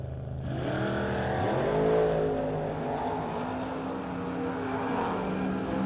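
A 1968 Camaro on a drag strip, its engine roaring loudly and steadily as it accelerates through a run, with a distant, washed-out quality and no speech over it.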